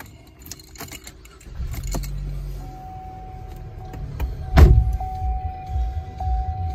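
Keys on the key fobs of a 2015 Chevrolet Cruze jangle and clink in several close bursts, with one sharp metallic clack midway and a faint tone humming beneath.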